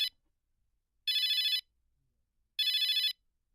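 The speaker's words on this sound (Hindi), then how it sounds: "फोन बज गया, किसका भाई?" A telephone rings in two loud, even electronic bursts of trilling bells, each about half a second long with a pause between, heard alone and close.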